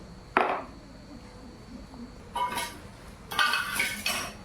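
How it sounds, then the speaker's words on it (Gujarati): Spoon scraping and clinking against a bowl while a suji toast mixture is stirred, heard as three separate bursts of close, bright, clattery stirring set apart by short quiet pauses. "હવે એને બધા મિશ્રણને એકદમ સરસ રીતે હલાવી દેવાનું છે."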